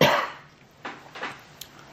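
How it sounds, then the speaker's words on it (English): A single loud close cough opens, followed by a few fainter throat-clearing coughs spaced across the remaining moments. "Let me cough here."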